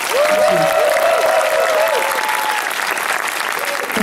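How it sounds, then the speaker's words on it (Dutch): Audience applause for the Miss Noord-Holland contestants at the pageant, a dense, steady clapping from a crowd that carries on throughout, with a voice speaking over it near the start. "Een applaus voor al deze missen."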